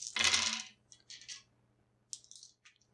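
Dice for a tabletop role-playing game tumble and clatter in one loud burst, followed by a few lighter rattling bursts as they settle, with no voices.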